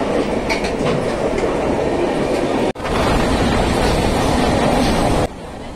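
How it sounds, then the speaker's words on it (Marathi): An Indian Railways passenger train runs through a tunnel at night, a loud, steady roar of rumble and wheel clatter heard from inside the coach, with a brief dropout midway before the roar resumes. "आपली ट्रेन आता चाललेली आहे टर्नलमधून।"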